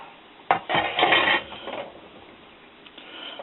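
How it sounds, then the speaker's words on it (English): Canned peppers and onions tipped into a cooking pot for a Rotel dip, a brief cluster of close metallic clatters and wet plops with a scrape from the can, then quiet. "I'm going to add in the peppers and onions out of the can."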